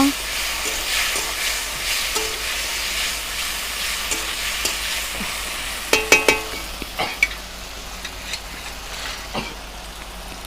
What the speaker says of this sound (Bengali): দিয়ে নেড়ে চেড়ে দেবো